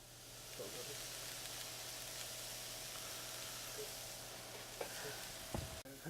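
Shrimp frying in a pan for curry shrimp, a steady soft sizzle under a faint hum, with a few utensil scrapes and a clatter near the end.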